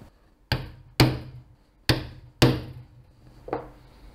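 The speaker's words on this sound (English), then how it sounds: "now we're gonna punch through using a diamond chisel" A diamond chisel is struck through leather along a 3mm stitching line, five sharp, separate mallet knocks spaced about half a second to a second apart, close and fairly loud with quiet between.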